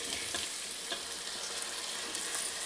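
Tomatoes fry in a pan and a spoon stirs them, making a soft continuous sizzle with faint scraping strokes at close range and no voices.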